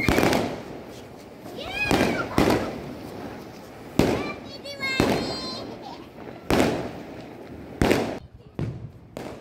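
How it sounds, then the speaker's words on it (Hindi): Firecrackers set off on a rooftop during Diwali celebrations burst in a series of sharp loud bangs spaced a second or two apart, with crackling whistles and voices talking in between. "मैं पटाखा वगैरह जब बच्चों से छुड़वाती हूँ तो अकेले नहीं छोड़ती हूँ, मैं भी साथ में जाती हूँ"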